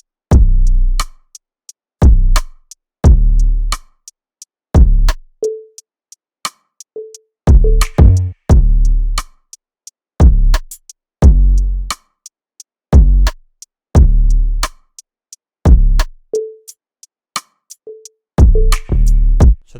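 R&B beat built from short 808 bass hits that stop cleanly on rim clicks, giving a punchy, bouncing rhythm of deep thumps and sharp ticks that repeats loud and isolated with no voices.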